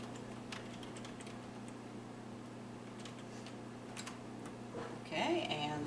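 Quiet clicking of keys typed on a computer keyboard, light irregular taps over a low steady hum, with a slightly louder burst of sound near the end.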